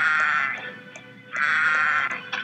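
Sheep bleat in the Kingdom Rush video game, on a farmland stage with windmills: two drawn-out, nasal cries separated by a brief pause. The bleats are loud and clear and come with no talk.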